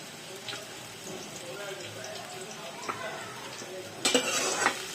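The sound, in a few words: onion frying and being stirred in pan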